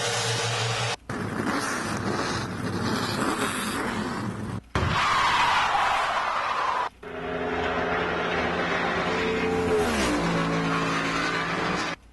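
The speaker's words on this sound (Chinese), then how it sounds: "所以我就去寻找一些有关于刹车或者是飙车的一个音效的一个呈现" A motorcycle racing effect made for a radio advertisement: engines rev and roar in several loud bursts broken by brief silences, with one rising whine sweeping upward toward the end.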